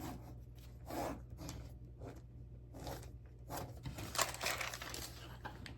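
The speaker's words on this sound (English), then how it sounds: "draw a picture real quick." A pen drawing a picture on paper, heard as a string of quick scratchy strokes and scribbles in uneven bursts, faint and close with a low hum underneath.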